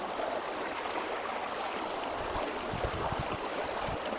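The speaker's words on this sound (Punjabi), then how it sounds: "ਪਾਣੀ ਕਿੰਨਾ ਤੇਜ਼ ਆਈ ਜਾਂਦਾ" Fast floodwater rushes loudly and continuously through a village, a broad churning roar close by with low gurgling surges.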